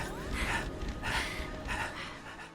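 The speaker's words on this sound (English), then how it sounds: "you emit that iconic Spartan panting noise" Armored Spartan soldier panting while sprinting in the video game Halo: Reach, a run of heavy breathy gasps repeating in a steady rhythm over game ambience, close and moderately loud.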